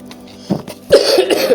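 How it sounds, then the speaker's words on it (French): A single close cough, then a rougher, longer bout of coughing and throat clearing right after, loud and near with no talking. "Je suis désolée pour la toux."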